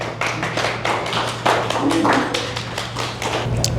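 A live audience on a dating game show set claps together in a dense, continuous patter of sharp hand strikes, steady and fairly close for several seconds over a low electrical hum.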